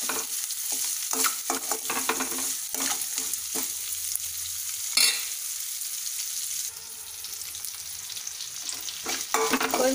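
Salted onions fry in a pan for a spinach curry, a close, steady sizzle with frequent stirring scrapes and spatula taps, slightly quieter in the latter half.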